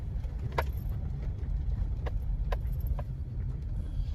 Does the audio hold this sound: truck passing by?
yes